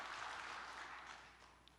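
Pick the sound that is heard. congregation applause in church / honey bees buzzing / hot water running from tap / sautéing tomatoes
congregation applause in church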